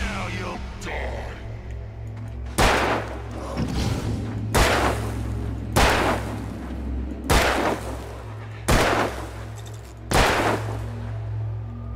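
Loud gunshots from a handgun in the Alan Wake video game, six or so sharp blasts fired at an even, unhurried pace over a low droning backdrop.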